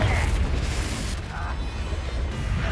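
A Confringo blasting spell explodes in Hogwarts Legacy, a loud sustained booming roar with heavy low rumble that fills the whole moment, with no pause in the blast.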